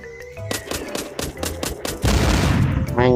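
Gunfire in the video game The Walking Zombie: a rapid string of loud, evenly spaced shots rings out close by, followed by a denser, heavier burst of automatic fire.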